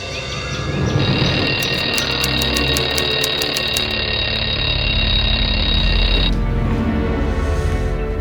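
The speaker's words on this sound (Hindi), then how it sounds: "अलार्म भी मुझे ही बंद करना पड़ता है" An alarm clock rings loudly in a home setting, sounding a sustained electronic beeping tone for several seconds before it cuts off, with steady background noise behind it and no talking.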